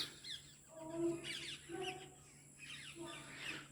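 Parrots fly over fields and call, a faint, distant run of repeated sharp squawks and chirps spaced through the moment.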